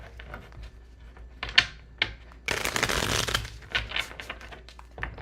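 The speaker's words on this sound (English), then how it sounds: "2 more shuffles." Tarot cards are riffle-shuffled in one loud, rushing burst of flicking card edges, with quieter taps and card handling before and after, close by and without talk.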